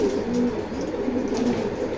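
Racing pigeons coo in low, throaty repeated phrases, close and fairly loud, layered continuously throughout.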